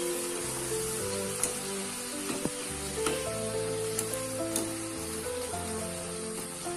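Moong dal nachos deep frying in hot oil give a steady, dense sizzle that runs the whole time beneath background music with sustained tones.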